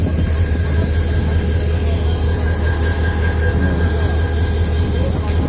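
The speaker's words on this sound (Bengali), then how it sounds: "এটা 29-28 সিরিজের ইঞ্জিনটা মোটামুটি চলছে" A 2928-series diesel locomotive idles at a junction station with a steady, loud low rumble and a droning hum that holds unchanged throughout, with no voices over it.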